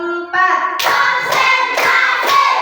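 A classroom of students claps in unison for a fourth rhythmic round: a brief tonal tone, then sharp group claps in a quick, even pattern, loud and close.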